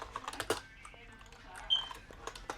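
Computer keyboard typing with a string of quick, irregular key clicks at close range, a couple of louder strikes among softer taps, under a quiet room tone.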